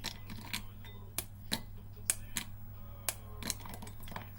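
A series of sharp snaps and cracks as dark chocolate is broken into pieces, irregular and close, over a steady low hum in an otherwise quiet room.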